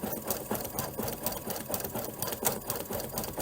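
A Kimberbell embroidery machine stitches a large fringy flower detail in peachy orange thread, a fast, steady mechanical chatter of needle strokes at close range with no voices.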